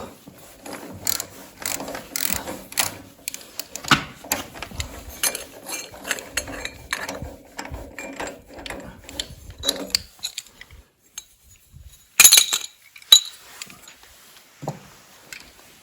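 Rapid ratcheting clicks from a wrench turning a 21 mm socket on a DTZ 470 B engine, repeating close up in steady runs, then metallic clanks of parts being handled near the end.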